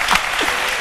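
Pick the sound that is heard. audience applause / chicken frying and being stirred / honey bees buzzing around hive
audience applause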